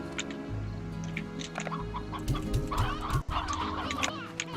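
Chickens cluck and squawk in the video game Slime Rancher, a busy cluster of short, overlapping clucks and chirps rising in the second half over a low droning background.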